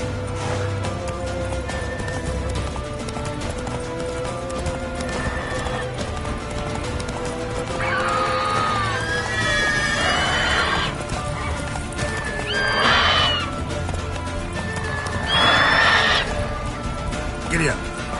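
Horses in The Witcher 3 video game whinny several times over a steady clip-clop of galloping hooves, with voices talking throughout.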